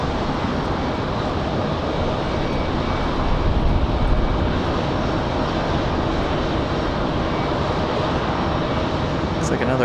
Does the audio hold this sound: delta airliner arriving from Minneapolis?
yes